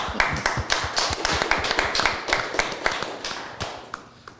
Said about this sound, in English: I'm going to get a round of applause for everybody that's here.